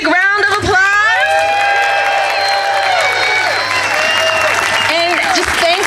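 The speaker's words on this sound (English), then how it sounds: "let's give all of our speakers another big round of applause" Rally crowd breaks into loud applause with whoops and cheering for the speakers, dense and sustained across the whole stretch, with a few shouted voices rising above the clapping.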